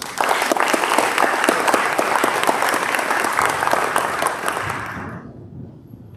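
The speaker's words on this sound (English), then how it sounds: "Let's give them a round of applause." A civic audience gives a hearty round of applause at a city address, crisp claps close and steady before tapering off to quiet near the end.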